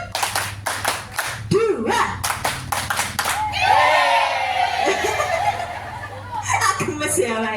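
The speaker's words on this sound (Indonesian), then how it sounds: "tepuk tangan buat kita semua dong" A group claps hands together at a lively outbound team event in Karanganyar, a burst of dense applause rising after a few sharp separate claps, mixed with laughter and a voice speaking.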